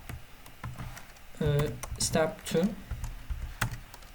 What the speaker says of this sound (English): I type in another step